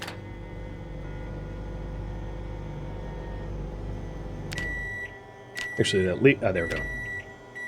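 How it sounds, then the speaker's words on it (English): A microwave oven in the Project Zomboid game hums steadily while defrosting, then stops and gives a few short beeps as someone speaks briefly over the end. "defrost them in the microwave"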